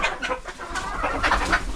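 A laying hen clucks repeatedly at close range in a backyard where eggs are being collected, a steady run of short calls with no talk over it.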